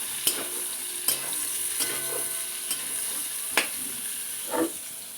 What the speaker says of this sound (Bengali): এই পটল ভাজার তেলে আলুগুলো ভাজবো